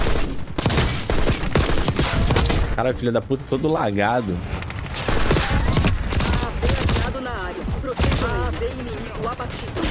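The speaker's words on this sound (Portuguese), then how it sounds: "O AAV tá levando tiro." Dense gunfire and explosions from the video game Call of Duty: Black Ops 6, rapid bursts and booms continuing throughout, with someone talking over the battle.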